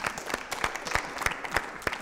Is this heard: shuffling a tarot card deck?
no